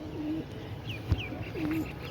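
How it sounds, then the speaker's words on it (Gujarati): Soft cooing of racing pigeons, two short calls separated by a pause, with a faint thump in between and quiet ambient noise. "કોકનું નવું કબૂતર એને આપણા કબૂતર ભેગું ઉડવા માંડ્યું છે"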